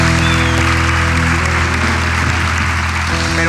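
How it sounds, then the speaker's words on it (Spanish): Steady, dense clapping from a live show audience, loud and continuous throughout, with a low hum underneath. "Un aplauso, por favor."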